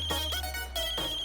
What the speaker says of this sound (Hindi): ये किसका फोन?